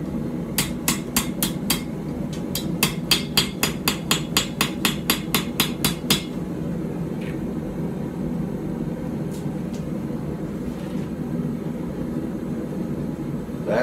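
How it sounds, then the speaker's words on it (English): A hammer strikes a puukko knife blade being forged, a quick run of about twenty sharp, ringing metallic blows in a steady rhythm that stops halfway through, leaving only a low hum and faint clinks. "Back to this hammer."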